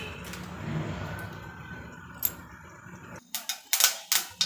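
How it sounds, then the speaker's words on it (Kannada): Mustard seeds spluttering in about two tablespoons of hot oil for a mung bean usli: a steady frying hiss, then a quick run of sharp, close pops and crackles near the end. "ನೋಡಿ, ಸಾಸಿವೆ ಸಿಡಿತಿದೆ."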